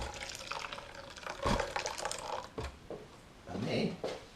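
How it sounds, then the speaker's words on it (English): Freshly boiled water pours from a kettle in a short, soft trickle, faint and close, with light clinks and a quiet voice around it. "So I recently boiled the kettle, so I'll pour a bit of this in there."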